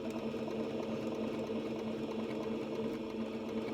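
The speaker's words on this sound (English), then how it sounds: "So I'm gently sewing around the edges." A new domestic sewing machine stitching around the edges of dress fabric, a steady close motor hum with a rapid continuous needle rhythm, running evenly throughout without talk.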